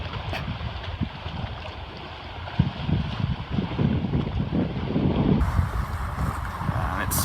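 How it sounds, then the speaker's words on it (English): Gusty wind at Flagstaff Lake on the Appalachian Trail buffets the microphone in a steady roar, building a little louder toward the end. "It's a bit windy and kind of cold."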